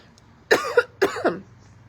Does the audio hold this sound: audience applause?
no